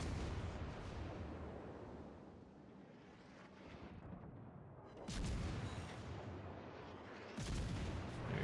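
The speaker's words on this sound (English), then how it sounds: "Fire your guns" Guns in a video game fire in heavy, continuous booming barrages, dense and loud, with fresh bursts swelling twice near the end and no talking.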